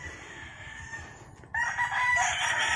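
A 10-month-old rooster crows loudly and close, one long drawn-out call rising out of quieter clucking and farmyard noise.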